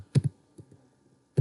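A few sharp keystrokes on a computer keyboard while HTML code is written: two quick clicks close together, a faint tap, then another firm click after a pause, fairly close and quiet.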